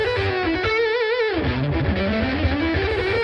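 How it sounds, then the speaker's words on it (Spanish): Electric guitar on a Gyrock six-pickup guitar, switched to its humbucker pickups in the bridge and neck positions, playing a thick, saturated distorted tone with wavering bends and sustained notes, continuous and loud. "Sonido de humbucker."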